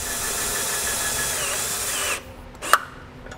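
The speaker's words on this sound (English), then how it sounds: "I'm going to be using a 1/4-inch nut driver to put it into place." A 1/4-inch nut driver on a power tool spins a self-tapping screw into metal, a steady whirring run for about two seconds that stops abruptly, followed by a single sharp click.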